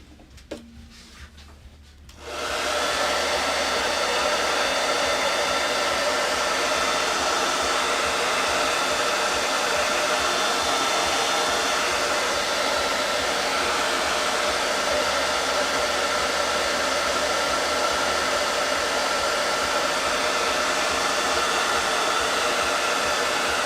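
A hair dryer blows steadily on a wooden Santa Claus North Pole directional sign, switching on after a couple of seconds of quiet and then roaring continuously and close for the rest of the stretch.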